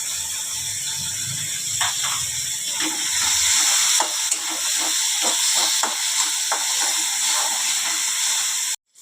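Green peas and turmeric powder tipped into hot frying spices, a bright steady sizzle and hiss with scattered crackles and pops, ending abruptly.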